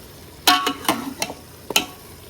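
Curry (salan) being stirred and fried in a pan: several sharp scraping and clanking strikes of a spoon against the pan, irregular and close, over a quiet background.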